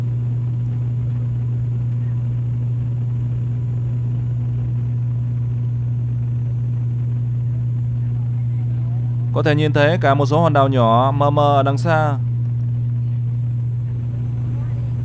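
A steady, loud droning hum of an ATR 72 turboprop airplane cabin fills the whole stretch, with a person speaking briefly over it partway through.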